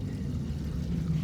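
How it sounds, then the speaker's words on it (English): Military jets pass overhead near Luke Air Force Base in Surprise, Arizona, heard as a steady, continuous low rumble throughout with no voices. "you can definitely hear the jets going overhead"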